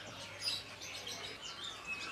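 Trotolan songbirds chirp and tweet continuously at a busy bird market, overlapping high calls from several birds at moderate distance against a steady market hum.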